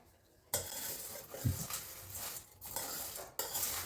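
A bakery-style savoury mixture seasoned with chilli powder being stirred in a bowl, with clattering scrapes and clinks of a spoon against the dish in uneven bursts, close and fairly loud.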